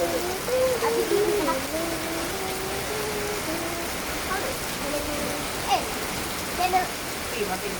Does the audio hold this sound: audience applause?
no